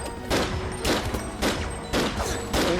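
Rapid bursts of pistol gunfire in the Starbound video game, four loud volleys in a steady rhythm, each a cluster of sharp cracks over a constant background of game sound.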